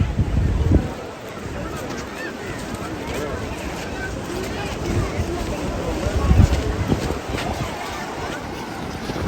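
Steady wind rumbles and buffets the microphone outdoors at Kanyakumari, with low gusts swelling now and then beneath scattered voices.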